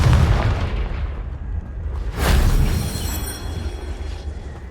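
A Confringo spell explosion in Hogwarts Legacy goes off as a loud booming blast with a deep rumble that swells again and slowly fades.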